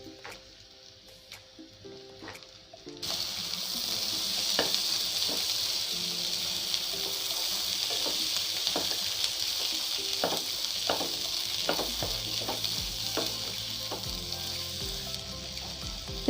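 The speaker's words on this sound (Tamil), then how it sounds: "வெங்காயம் பூண்டு பச்சை மிளகா எல்லாம் ஃப்ரை ஆன உடனே தோரக்கொட்டையை இதில் ஆட் பண்ணிடலாம்." Onion, garlic and green chillies frying in a pan, starting with a few quiet stirring clicks before a loud, steady sizzle swells in and continues close up, with scraping spoon strokes throughout.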